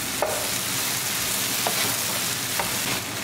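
Taro root tossed with pomegranate seeds in a hot pan over medium gas, a steady close sizzle with a few soft scraping stirs of the spoon at regular intervals.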